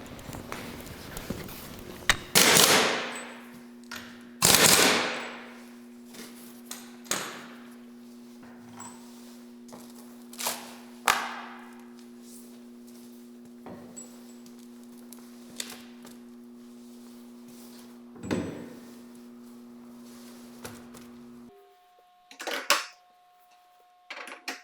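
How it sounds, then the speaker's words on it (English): Metal counterweight plates taken off an LP401 machine, sharp clanks and scraping knocks at irregular intervals over a low steady hum, with quieter handling sounds in between. "I'm going to go at the other side and take those off."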